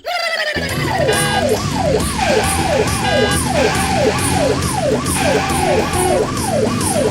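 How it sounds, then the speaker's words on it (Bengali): An ambulance siren wails loud and close in a steady, repeating up-and-down sweep that runs unbroken for several seconds, with an engine-like rumble underneath. "এমন সাইরেন বাজিয়ে যাচ্ছ কেন ভাইয়া?"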